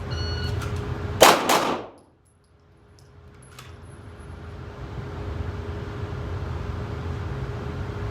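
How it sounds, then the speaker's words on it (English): One sharp pistol shot rings out at 7 yards and a steel target clangs right behind it, both loud and close. A quiet outdoor hush follows. "Here we go, let's shoot one at 7 yards."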